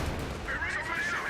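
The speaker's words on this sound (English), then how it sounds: "More rocket artillery going down there." Rocket artillery barrage in Company of Heroes 2, a dense rumbling wash of launches and blasts filling the clip, with a commentator talking over it.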